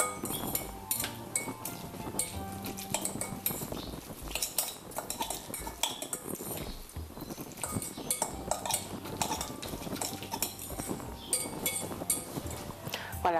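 Vinaigrette with oil is mixed in a bowl, a steady run of metal utensil clinks and scrapes against the dish, close and busy throughout.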